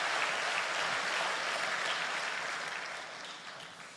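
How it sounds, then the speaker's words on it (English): Dense, sustained applause from a church congregation for a drama team during a Sunday service, a steady wash of many clapping hands that fades slightly toward the end. "Let's give another round of applause to the drama team."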